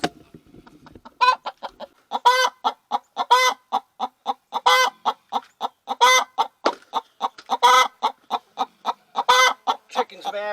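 An annoyed hen clucking in a nesting box, loud and close, in a steady run of rhythmic, sharp clucks with longer squawking notes every second or so.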